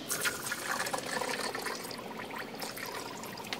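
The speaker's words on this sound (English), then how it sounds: "I can take my funnel, put it on top of my coolant jugs, and empty the remainder of whatever's left in the bucket back into my clean coolant containers." Leftover engine coolant poured from a bucket through a funnel into coolant jugs, a steady close splashing and gurgling pour of liquid running continuously with no talk.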